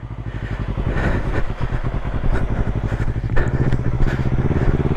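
A motorcycle engine runs close by with a rapid, even pulsing throb as a learner rider gently turns the throttle, the revs holding steady with only slight swells.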